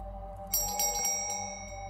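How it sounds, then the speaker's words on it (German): A bell rings in the puzzle video game RätselKnast, with bright tonal strikes ringing out over a steady background hum for about a second and a half, no talking. "Einfach eine Glocke."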